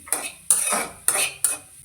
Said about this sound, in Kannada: ಈಗ ಒಂದು ಪಾತ್ರೆ ಇಟ್ಟಿದ್ದೀನಿ